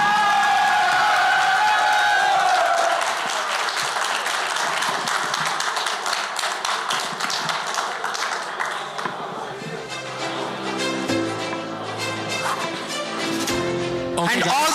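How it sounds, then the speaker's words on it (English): An audience at the ZIGChain Summit in Dubai applauds, with steady crowd clapping and a few whoops carrying on for about fifteen seconds under music and a raised voice. "another round of applause for our brother Stasher."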